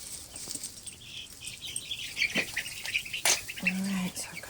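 Backyard chickens squawk and flutter in short, scattered bursts, with one louder cry near the middle and a sustained call toward the end, heard fairly close with faint background rustling.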